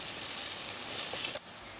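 Onion, garlic, carrot and potato sautéing in a pot give off a steady broadband sizzle that drops slightly quieter near the end, with no talk over it.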